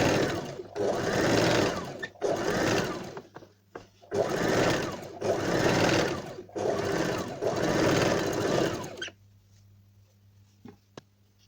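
Sewing machine stitching a neck facing seam on a round-neck kurti with piping, running in four or five steady bursts with short pauses between them, close and loud, then stopping into near silence.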